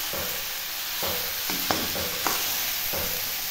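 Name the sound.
stirring chicken meat in a wok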